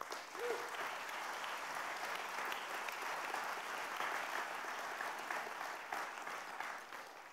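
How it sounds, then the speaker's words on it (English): Sustained audience applause for a poetry prize at a writers' festival opening night, a broad steady clatter of many hands filling the hall for several seconds, fading slightly at the end. "I would like to have a round of applause for that"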